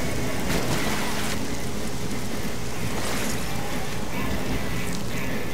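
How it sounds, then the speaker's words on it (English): Steady, loud rainfall in the fantasy role-playing game Oblivion, a dense continuous hiss of falling rain with faint patters and no pauses. "I plagued the land and made it rain."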